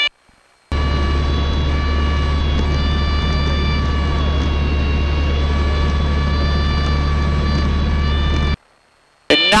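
A Cessna light airplane's engine drones steadily in slow flight just above a stall, a loud, constant tonal hum with a strong low rumble that cuts in abruptly and runs unbroken for about eight seconds.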